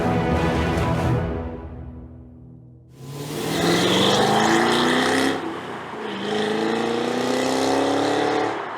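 Supercharged 668-horsepower V8 of a 2023 Cadillac CT5-V Blackwing with a six-speed manual revs loudly, a first rev fading out, then two sustained climbing pulls after a brief pause, close and dominant.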